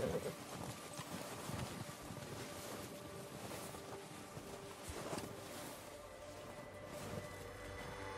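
Soft, steady hoofbeats clip-clop along under a constant rush of wind noise, with no voices, in the video game Red Dead Redemption 2.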